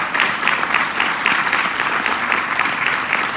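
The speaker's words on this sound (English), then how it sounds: "Ladies and gentlemen, please give her a round of applause." A crowd at a Black History Month keynote event breaks into loud, steady applause, close and continuous clapping from many hands.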